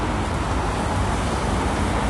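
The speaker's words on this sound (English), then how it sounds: "Crossing the road, noisy car coming." A noisy car passes on a busy stretch of Charleston Road North, a broad steady roar of engine and tyre noise close by and loud for the whole moment, with no voices.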